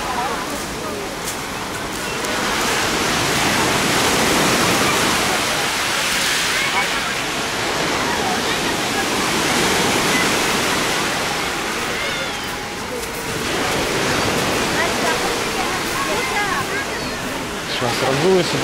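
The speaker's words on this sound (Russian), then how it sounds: "Тут волны, кажется, помельче как-то" Sea waves break on a beach in Alanya, Turkey, rolling in a broad roar that swells and eases in slow surges, with voices faintly mixed in.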